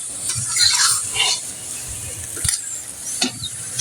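Chana dal halwa being stirred in a pan, a thick sweet lentil paste scraped and turned with soft, irregular swishes and a couple of sharper knocks of the spoon against the pan, heard close with no talk.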